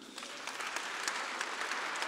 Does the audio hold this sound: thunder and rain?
no